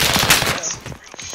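Rapid automatic gunfire from a machine gun in the online shooter Warzone, loud and dense for about half a second, then thinning into scattered shots and game noise with a voice faintly mixed in.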